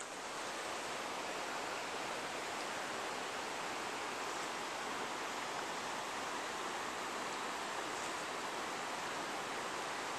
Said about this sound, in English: The river is down there.